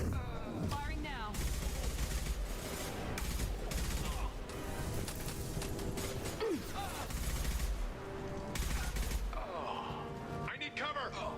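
Rapid gunfire from the Mass Effect 2 video game, dense bursts and sustained volleys crackling loud and close throughout, with occasional mechanical clicks and other game effects mixed in under shouted voices.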